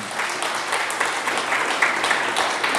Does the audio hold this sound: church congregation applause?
yes